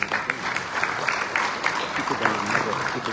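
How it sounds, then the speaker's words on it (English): An audience at a Hindu religious gathering in South Africa applauding: dense, steady clapping from many hands throughout, fairly close and loud. "I would like you to give them a resounding round of applause"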